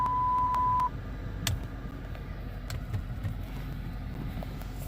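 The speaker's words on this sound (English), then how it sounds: "That thing's beeping because my reverse sensor, I'm really close to a bush." A car's reverse parking sensor sounds steady high beeps as the car backs close to a bush, a run of quick evenly spaced pips for about a second. Faint engine rumble and scattered clicks continue underneath.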